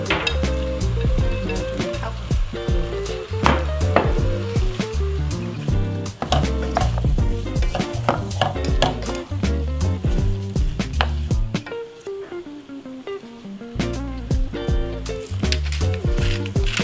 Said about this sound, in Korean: 이렇게 해서 이제 참기름을 넣고 다시 한번 볶는 거예요.